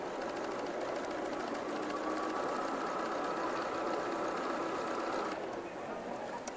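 A sewing machine stitches down quilt fabric at a quilting festival demonstration, a steady rapid mechanical whirr and clatter that runs continuously up close, easing slightly near the end.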